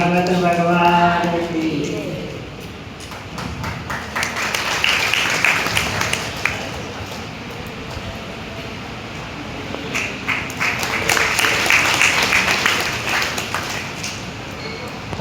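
An audience claps at a Bhagavat Katha felicitation in a village gathering, with bursts of scattered, moderately loud clapping rising twice and fading, while a voice speaks at the start and amplified talk and hum carry on underneath.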